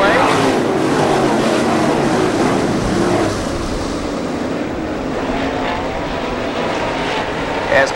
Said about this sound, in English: Some great competitors in this B-main event as they get on the gas out of 4